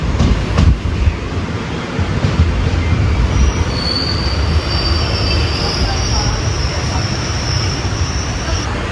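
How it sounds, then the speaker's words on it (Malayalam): The Kottayam Express pulls out of Kuzhithurai station, a loud, steady rumble of rolling wheels and carriages with a long, high wheel squeal through the middle and later part. "ഒന്ന് 56 വണ്ടി ഇവിടുന്ന് ഡിപ്പാർട്ടായി."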